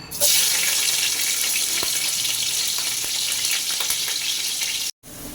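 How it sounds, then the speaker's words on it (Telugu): Finely chopped green chillies drop into a generous amount of hot oil for crab curry, giving a loud, continuous hissing sizzle that cuts off abruptly near the end. "కొంచెం ఎక్కువ ఆయిలే పడుతుంది మెత్తగా తరిగి పెట్టుకున్న పచ్చిమిర్చి వేయాలండి"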